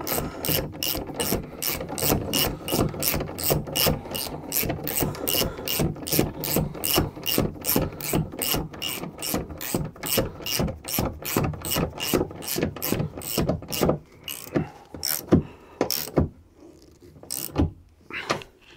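A ratchet wrench tightens a nut on a Renault Twingo rear shock absorber: a steady, rapid run of close ratchet clicks, loosening into a few spaced clicks near the end, with no talking.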